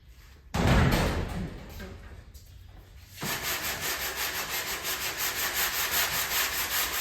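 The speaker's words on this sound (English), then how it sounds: "let's get this insufferable sanding out the way" Primer being sanded by hand on the body of a 1986 Mazda RX-7 FC, heard close up as a loud, continuous rubbing. Steady back-and-forth strokes form a regular rhythm in the second half.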